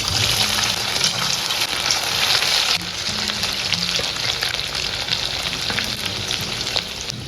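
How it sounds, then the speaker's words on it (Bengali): Marinated chicken coated in egg white, flour and cornflour fries in hot refined oil in a wok over a low-to-medium gas flame, giving a loud, continuous close sizzle with bubbling crackle throughout. "কড়াইতে রিফাইন তেল গরম করে সব মাংসগুলো খুব ভালো করে ভেজে নিচ্ছি।"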